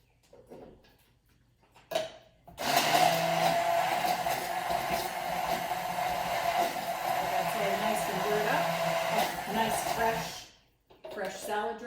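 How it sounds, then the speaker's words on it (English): A small stick blender whirs through salad dressing with olive oil, a loud, steady whine lasting about eight seconds before cutting off, with speech heard before and after. "Fresh salad dressing, super easy to make if you have a little stick blender or even a regular, full-size blender"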